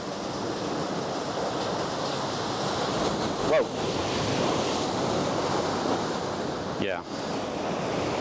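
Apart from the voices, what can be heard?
ocean waves surging in a gulch at high tide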